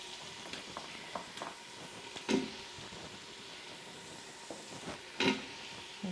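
Cubes of butternut squash drop into hot spices in an Instant Pot, giving a quiet steady sizzle punctuated by a few louder clattering thumps and stirring scrapes.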